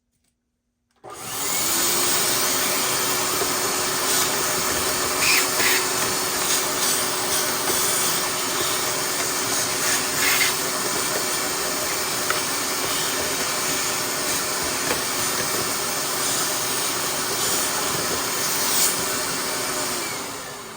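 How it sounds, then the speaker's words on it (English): A vacuum cleaner switches on after a moment of silence and runs steadily with a loud, constant whine and rushing air, cleaning inside the engine air filter box of a Toyota Corolla, no talking. "I'd like to vacuum inside of the air box."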